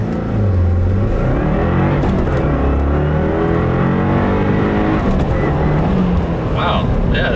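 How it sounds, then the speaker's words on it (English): A 2015 Subaru WRX fitted with a Cosworth high-flow panel air filter launching hard in first gear, a loud close in-cabin engine roar rising steadily in pitch for several seconds, with a voice talking over it. "Little mini launch, first gear."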